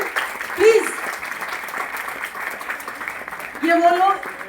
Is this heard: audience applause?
yes